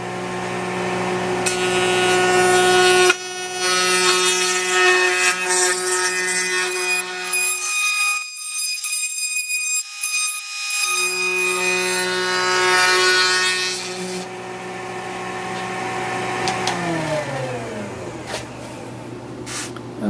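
Scroll saw cutting a wooden car door grabber, a close, steady rapid buzzing and rasping that drops out briefly after three seconds, thins for a couple of seconds in the middle, then continues before winding down at the end.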